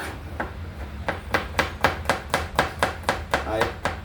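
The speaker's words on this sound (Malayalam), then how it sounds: "പപ്പാൻ്റെ ഇലകളൊക്കെ ഒന്ന് ചെറുങ്ങനെ ഒന്ന് ചെറുതാക്കി കൊടുക്കണം" Papaya leaves are chopped into small pieces with about a dozen sharp, evenly spaced blade strikes on a hard surface, close and distinct, in a quickening rhythm.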